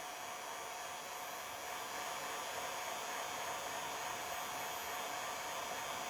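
A heat gun or hot-air blower runs in a steady, loud, unbroken whoosh with a faint whine while warming a rigid oiler tube for a Stihl 036/MS360 chainsaw, no voices over it.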